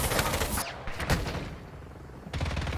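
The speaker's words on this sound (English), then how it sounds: "Open fire. I shot the enemy." Call of Duty Mobile gunfire rattles out in loud, dense bursts of rapid shots, breaking off briefly before another burst starts.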